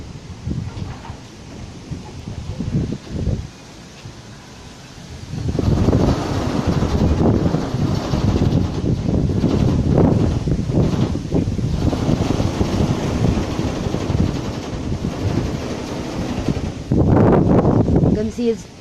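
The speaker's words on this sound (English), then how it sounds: "It's too windy and I decided to just capture this." Strong gusting wind during a heavy windstorm in Bengaluru roars as a broad, rough rumble across the microphone, building to a sustained, loud blast that holds for several seconds and surges again near the end.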